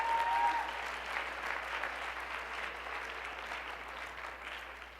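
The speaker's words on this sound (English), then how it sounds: "You can applaud." An audience at the 2013 IHSA speech individual events state finals awards applauds with steady, sustained clapping from a large crowd, fairly distant and even throughout.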